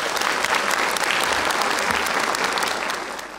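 Audience at a book-reading award ceremony in Turkey applauds steadily as a Rotary Club president is invited to the podium, a dense, continuous clapping that holds full strength and eases off slightly near the end.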